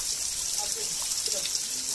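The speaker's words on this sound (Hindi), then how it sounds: "पानी गिरते हुए" Rain falls steadily outdoors in a constant bright hiss with scattered drips and splashes, filling the whole scene evenly at close range.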